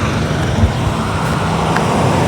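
Highway traffic rumbles past in a steady, moderately loud wash of vehicle noise, with no voices over it.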